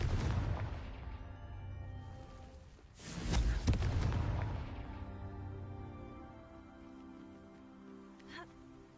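Confringo spell explosions in a Hogwarts video game go off as a deep booming blast midway, rumbling and decaying, with lighter pops later.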